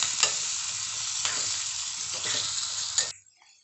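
Mustard seeds and curry leaves sizzle and crackle in hot oil, with a steady frying hiss and a few stirring scrapes, close up, ending in near silence.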